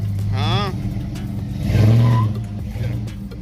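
Red truck engine revving after a bent connecting rod repair, a couple of loud throttle blips rising and falling close by, with a voice talking over it.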